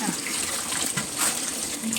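Hot water poured into a cooking pot while preparing Kottayam-style kappa with bone meat, a splashing gush of liquid that runs steadily and fairly close, with faint voices in the background.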